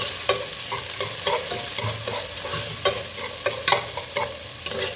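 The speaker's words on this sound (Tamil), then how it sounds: "இப்போ வெங்காயம் போட்டுக்கிறேன், சின்ன வெங்காயம் கட் பண்ணி போட்டுக்கலாம்" Chopped small onions fry in a pan for fish curry, a steady close sizzle broken by repeated scraping stirs of a spoon against the pan, with no talk.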